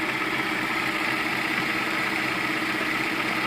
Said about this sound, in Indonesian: Ini mesinnya ada pincangnya,